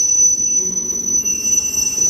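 CSX locomotive 7014 rolls eastbound toward a rail yard, a steady rumbling train noise with a sustained high metallic wheel squeal running throughout, loud and continuous with no voices.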